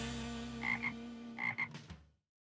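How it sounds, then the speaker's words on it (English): A cartoon frog croaks in two paired bursts, a pause between them, over a steady humming music bed from a 2002 French animated show before everything cuts to silence. "Now that's a frog."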